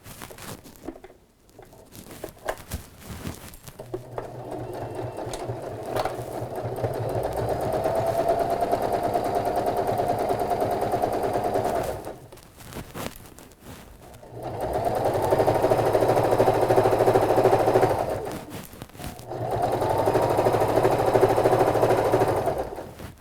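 Sewing machine stitching a ribbon onto a fabric sleepover bag, running in three sustained bursts of steady, rapid motor-driven needle chatter separated by short pauses, close and fairly loud with no talking.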